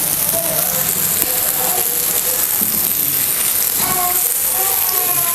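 Bangda mackerel fish sizzles steadily in a hot pan, a constant loud frying hiss with occasional scraping as pieces are turned, and someone talks over it.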